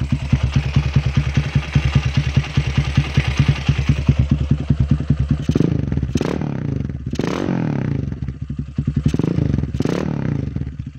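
Honda Megapro motorcycle fitted with a Herex aftermarket exhaust, idling with a steady rapid thump, then blipped into several sharp revving bursts that rise and fall, loud and close with no talk.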